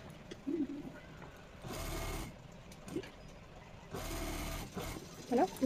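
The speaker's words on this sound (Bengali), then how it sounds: "এইখান থেকে একটা চাপ সেলাই দেবো" Sewing machine running in short bursts while pressing a seam on fabric for a Patiala pant belt, each run a loud steady whir of about half a second, with someone talking briefly between them.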